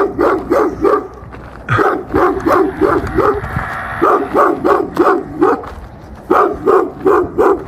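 A dog barks repeatedly in quick bursts of three or four, loud and close, with short pauses between volleys and faint whimpering.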